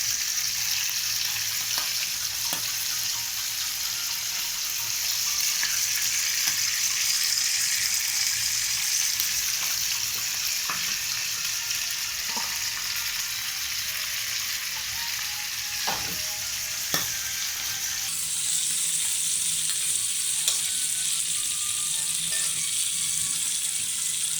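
Chopsuey vegetables stir-fry in a pan after cabbage is added, a loud, constant sizzling hiss with occasional scraping strokes of a spatula throughout.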